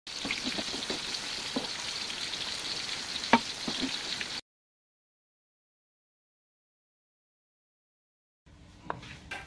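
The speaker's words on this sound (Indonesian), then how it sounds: "Lakukan atau goreng sampai semua pisangnya habis." Bananas frying in hot oil give off a steady, close crackling sizzle with scattered pops, then drop out into silence before the sizzle faintly returns.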